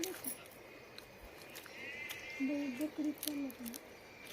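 A faint goat bleats a few wavering times in the background, with quiet voices and outdoor noise around it.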